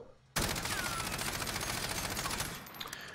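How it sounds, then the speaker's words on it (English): A 30-round magazine emptied in one sustained automatic burst in Warzone, dense rapid fire running about two seconds before cutting off, loud and close with no talking over it. "we're going to unload our 30 mags into that, again without trying to control the recoil"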